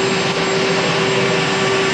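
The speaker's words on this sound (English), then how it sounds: "President of the United States coming in his chopper" Marine One, the presidential helicopter, approaching through trees as a loud, steady broadband rotor and turbine roar with a constant whine, no talk.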